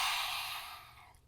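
A single forceful open-mouthed exhale with the tongue out, a lion's breath in a yoga flow, made as a breathy ha that starts loud and close and fades out over about a second.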